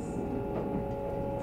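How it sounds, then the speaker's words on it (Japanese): Steady low rumble inside the Shimakaze limited express train bound for Kashikojima, Japan, in motion, a continuous hum and rattle throughout with faint voices underneath. "この電車は賢島行き特急島風です。"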